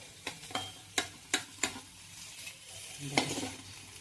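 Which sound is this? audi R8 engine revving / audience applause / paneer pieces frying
paneer pieces frying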